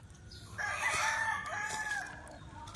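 Farm chickens and roosters in Batangas City, with one rooster's loud, drawn-out crow rising and falling for over a second against quiet outdoor background, no voices.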